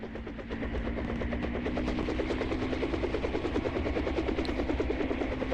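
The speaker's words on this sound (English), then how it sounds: "Aircraft taking off." A steady, loud rotor-like thrum and engine drone of an aircraft lifting off in the military shooter Arma 3, with a fast, even pulsing that holds throughout at close range and no talk.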